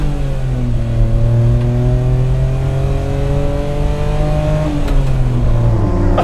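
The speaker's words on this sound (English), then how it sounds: "We're gonna go from a standstill and see what 0 to 60 is like" A Daihatsu Hijet Super Jumbo kei truck pulling away from a standstill at full throttle, its small engine droning loudly from close inside the cab with rising, strained revs and a brief gear-change dip near the end.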